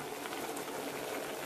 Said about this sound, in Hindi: चीनी और दूध को हमने डालकर हाई फ्लेम पे हम इसे पका रहे हैं